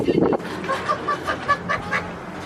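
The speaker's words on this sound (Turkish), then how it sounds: "Bizim bahçeyi çok seviyor bu tavuk." A chicken wandering a home garden gives a short burst of clucking, then a series of quick, faint chirps and clucks close by, with no talk.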